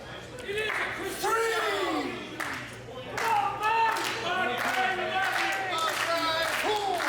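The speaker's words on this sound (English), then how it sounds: "And the crowd showing their appreciation for this main event here today" Wrestling crowd at an afternoon main event in Ridgefield Park, New Jersey, applauding and clapping steadily throughout, with sharp slaps and cheers mixed in and a commentator's voice running over the top.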